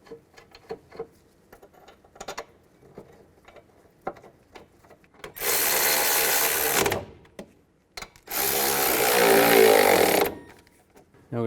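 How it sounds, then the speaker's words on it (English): An impact or power tool drives the brake caliper bracket bolts on a 2003–2007 Cadillac CTS, two loud sustained buzzing bursts of a couple of seconds each separated by quieter clicks and handling noises. "Put the bolts back in."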